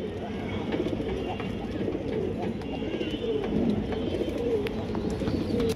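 Pigeons coo in a loft of fancy breeds such as China khaki, lal khaki and chila, a steady low murmur of overlapping calls that runs throughout the clip, with occasional faint chirps above.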